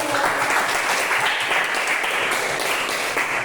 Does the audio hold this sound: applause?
yes